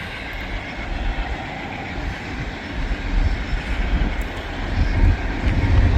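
Eastbound freight train 189 rolling past at a rail crossing, a steady heavy rumble of railcars that builds slightly louder toward the end, with no talk.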